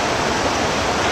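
Floodwater after heavy rain in Jodhpur, Rajasthan rushes through a street, a dense, steady roar of flowing water filling the scene without a break.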